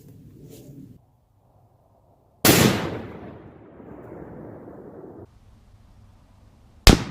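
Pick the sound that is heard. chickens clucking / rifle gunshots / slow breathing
rifle gunshots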